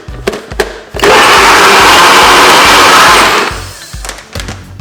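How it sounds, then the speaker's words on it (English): A small blender whirs loudly for about two and a half seconds as it blends cleanse ingredients, a harsh high-pitched motor roar, with clattering and knocking before and after the burst. "So let's blend up this."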